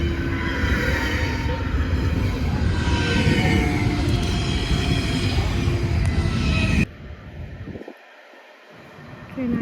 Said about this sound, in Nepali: ट्रेन आइसकेको छ